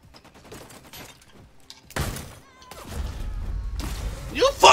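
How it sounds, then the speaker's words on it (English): Enemy gunfire in a shooter video game crackles in scattered bursts of sharp shots and thuds, growing denser and louder toward the end, with a voice talking and reacting over the shooting. "Two niggas shooting at me, bro."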